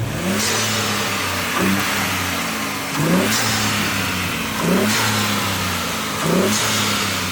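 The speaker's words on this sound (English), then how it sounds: "the wastegate, when I pin it and I let go, you get this" A 2024 Ford Ranger Raptor engine revs up repeatedly, each rise ending in a brief turbo wastegate release whoosh, in a regular cycle about every one and a half seconds.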